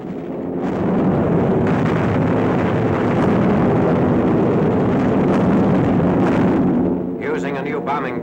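Dense, continuous rumbling roar from an all-out bombing raid dropping heavy explosives and incendiaries, booming blasts merging into a loud sustained wash that tapers slightly at the end.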